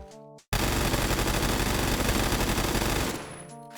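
Sustained burst of automatic fire from an AKS-74U fitted with a sideways grip in the video game Phantom Forces: a dense, loud, continuous rattle of rapid shots lasting about two and a half seconds, then a short fading tail.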